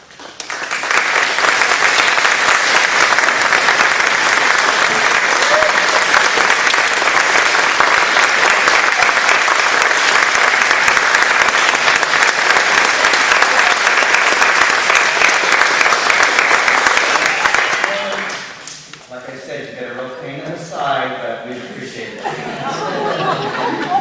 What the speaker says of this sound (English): give a big round of applause to those parents